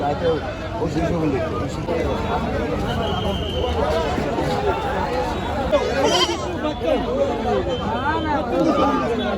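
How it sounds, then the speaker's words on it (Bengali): Goats bleat repeatedly amid the busy chatter of a crowd at Ainakhal market in Hailakandi, Assam, the animal calls mixing with nearby talk and general market hubbub. "প্রচুর ছাগল রাখা আছে এখানে এখানে হইলো ছাগলের সাইড"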